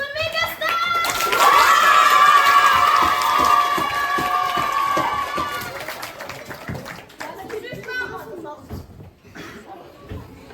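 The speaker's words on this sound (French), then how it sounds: "Je veux plus d'applaudissements pour notre méga star." An audience at a school talent show claps and cheers for a performer in a loud, dense burst that swells early and fades over several seconds, with voices talking over the tail.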